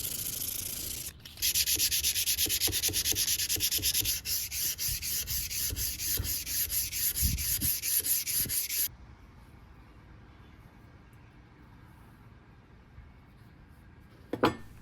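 A steel knife blade cut from a lawn mower blade is sanded by hand with fine-grit paper in steady back-and-forth strokes, loud and close for about eight seconds before quieting to a faint background.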